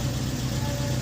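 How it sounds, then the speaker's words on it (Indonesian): A car engine idles at full operating temperature with the radiator fan running, a steady, loud low hum with an even whirring drone and no talking. "Terlihat fan juga sudah mulai menyala."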